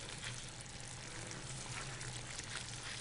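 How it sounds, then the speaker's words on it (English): Smoked salmon cream sauce poured into a pot of pasta gives a steady, faint, continuous pouring and sloshing noise lasting a few seconds, heard alone without talk. "I'm going to pour this sauce into the pot with the pasta"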